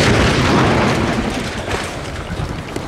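Acetylene gas exploding inside a dishwasher gives a loud, dense blast that rumbles on for the full three seconds with a broad roaring wash and no talk.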